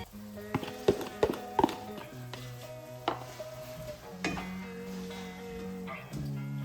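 Carrots, cabbage and capsicum are tipped into a hot pan for sweet corn fried rice, with sharp clanks of a utensil on metal and bursts of sizzling over a low frying hiss.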